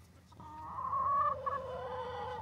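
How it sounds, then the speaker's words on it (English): Backyard chickens squawk and cluck close by, a loud, wavering call rising and falling over a low murmur of the flock. "you can hear them. They're all squawking."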